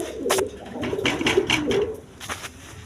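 Pigeons of a Bondin pair, a male and a female, coo in a series of soft throaty calls close by, several rolling coos over a few seconds.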